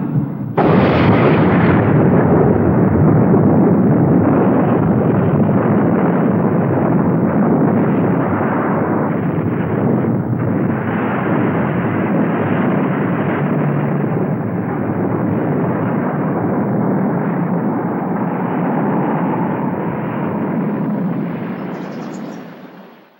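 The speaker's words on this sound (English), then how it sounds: "the most powerful weapon in human history, a device which uses fusion processes almost identical to those in stars, the hydrogen bomb" A hydrogen bomb test explosion: a loud, sustained roar of deep rumbling blast noise that rolls on for over twenty seconds without letup before fading abruptly at the end.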